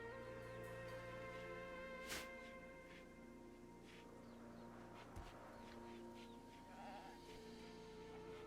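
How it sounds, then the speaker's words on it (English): Sheep bleat in a video game, a couple of short bleats over a steady tonal game background with faint clicks. "can somebody rope these sheep?"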